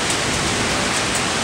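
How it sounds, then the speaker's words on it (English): Heavy rain pours down steadily in Toronto, a dense, even hiss that fills the whole moment without breaks, loud and close, with no voices. "It's raining, it's pouring,"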